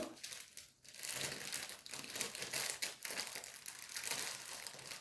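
Paper folded by hand into a small chocolate bag crinkles and rustles in close, soft bursts, with a brief pause near the start.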